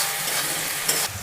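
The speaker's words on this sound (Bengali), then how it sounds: "পেঁয়াজের মধ্যে রসুন বাটা দিয়ে দিতে খুব সুন্দর গন্ধ বেরোচ্ছে।" Garlic paste frying with onions in a hot pan, a loud continuous sizzle and hiss with a brief stir at the end.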